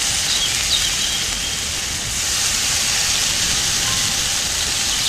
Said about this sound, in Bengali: ঘষে রাখা একটা পেঁয়াজ দিয়ে দিলাম।